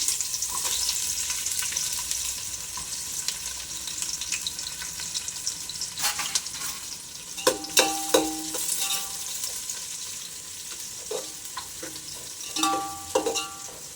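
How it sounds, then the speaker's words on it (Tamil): Onions frying and browning in a pan for mutton biryani, a steady close sizzle with intermittent scraping and knocking of a spoon against the pan, no voices over it. "கொஞ்சம் அது பொரியட்டும் பிரியாணிக்கு எப்பயும் வெங்காயம் வந்து ப்ரௌனிஷ் ஆகிறப்ப தான் நல்லாயிருக்கும்"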